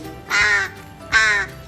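A crow, a wild one being kept by a dog owner, gives two harsh, drawn-out caws about a second apart, close and clear against a quiet background.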